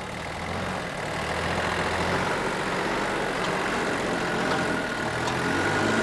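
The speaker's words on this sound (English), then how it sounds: "Philip Schofield could make up some good time here if only he could get to grips with this tractor load of Jersey daffodils." A tractor hauling a load of Jersey daffodils runs with a steady, droning engine note, continuous and fairly close with no talk over it.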